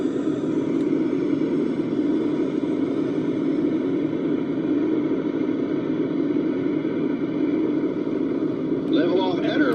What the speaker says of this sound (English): Now hit the backspace key to power up to full afterburner.